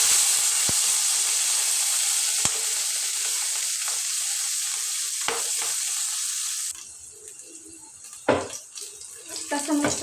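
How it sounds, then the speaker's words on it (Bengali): Green chilies sizzle in hot oil in a home kitchen, a steady loud hiss with a few sharp pops that drops to a quieter crackle partway through, punctuated by light clatter near the end. "কাঁচামরিচটা ভেজে নেব"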